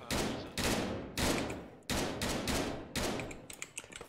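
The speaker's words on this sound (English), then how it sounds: "I see roughly where she's shooting at" Heavy, booming gunshots in a military shooter video game come in several loud, evenly spaced blasts, each with a long decaying tail, followed by a flurry of smaller rapid pops at the end.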